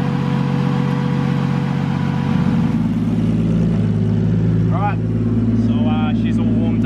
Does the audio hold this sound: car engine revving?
yes